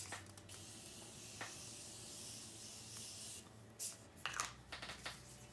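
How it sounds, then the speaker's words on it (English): Makeup setting spray misted onto a face in a few quiet hissing bursts, a longer soft spray followed by short close puffs, faint and with no talking. "Okay, I'm spraying my face again."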